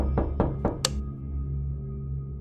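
Loud knocking on a door, four heavy, evenly spaced thuds in quick succession, close and booming, followed by a low lingering hum.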